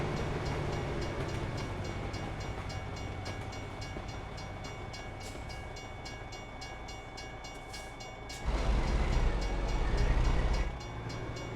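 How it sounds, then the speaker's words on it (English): A methane freight train passes near a level crossing, heard from a truck: a steady, continuous rumble and rail clatter with a louder, heavier surge of wagons rolling by near the end. "That's the methane train again."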